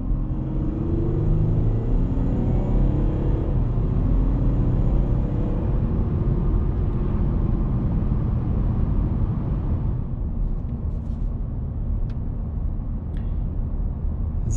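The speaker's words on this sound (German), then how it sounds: "Konstantfahrt 60 und wir beschleunigen jetzt gleich einmal auf 120." An Audi A4 Avant 50 TDI Quattro diesel accelerates from 60 to 120 km/h, heard from inside as a loud, continuous engine and road rumble that eases slightly toward the end.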